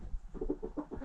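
Soft, close clucking from chickens, a series of short low murmuring calls in quick succession.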